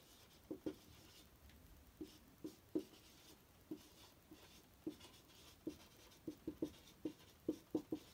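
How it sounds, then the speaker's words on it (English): Pen writing by hand on paper while working a GCSE maths surds problem, a series of soft, close scratching strokes in irregular bursts, with no talk. "If I write down in here"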